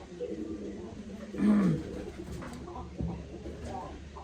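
Soft, low pigeon coos sound close by, one brief rolling call standing out amid quiet background noise.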